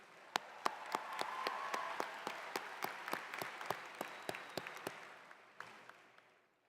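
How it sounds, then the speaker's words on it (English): At a Seminole State spring graduation ceremony, an audience claps for Professor Campbell and Seminole Sound. Evenly spaced, echoing hand claps sound over a soft crowd wash in a large hall, then fade out. "Let's give Professor Campbell and Seminole Sound another round of applause."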